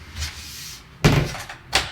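Shower door in a motorhome being shut, two firm knocking thuds about a second apart, close and fairly loud, with faint talk barely present.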